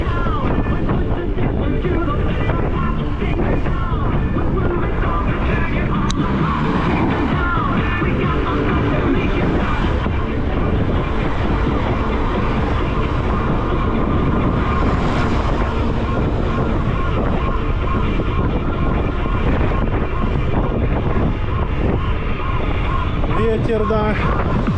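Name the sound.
wind blowing on a cycling route in Crimea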